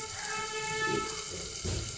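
A kitchen stove turned down to a low flame gives a steady low roar with a couple of dull, muffled booming thumps rising out of it, close by.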